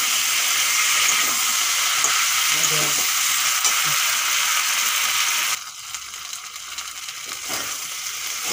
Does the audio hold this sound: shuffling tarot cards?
no